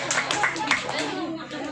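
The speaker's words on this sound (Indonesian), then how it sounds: "Tepuk tangan untuk gua" Clapping from an audience at a santri Islamic knowledge quiz competition in Lampung, a few rhythmic rounds of hand claps mixed with voices and chatter over a steady background hum.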